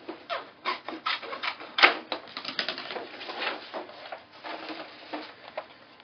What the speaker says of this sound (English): So just using my scissors, I'm roughly going to cut a piece of this off so it's easy to work with.